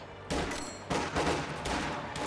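Rapid bursts of rifle and machine-gun fire from a Company of Heroes 2 battle, with US riflemen, Soviets and German grenadiers, rattle in dense overlapping volleys with sharp onsets, continuous and fairly near across the whole stretch.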